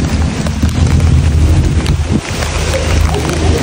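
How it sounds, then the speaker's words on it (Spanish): Rain falls at night as a bus arrives in Mexico City, a loud, steady hiss layered over a low rumbling drone that continues without a break. "está lloviendo."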